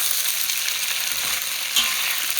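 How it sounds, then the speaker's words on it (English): Tofu sizzles steadily in a hot frying pan, with a continuous bright crackle and a brief louder scrape of the stir near the end, close and without talk. "And then I'll give my tofu a stir."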